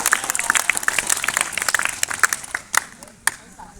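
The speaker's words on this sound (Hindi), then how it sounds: "आप लोग ताली बजाकर इनका स्वागत करें।" Students at a school children's parliament event applaud in a welcome with brisk, scattered clapping that thins out toward the end, with voices heard faintly.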